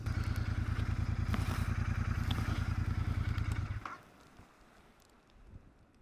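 A motorcycle engine chugs close and steady with a fast rhythmic pulse through a snowy mountain village in Japan, then cuts off abruptly about two-thirds through, leaving faint wind and crunching.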